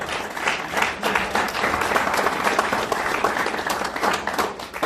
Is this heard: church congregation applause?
yes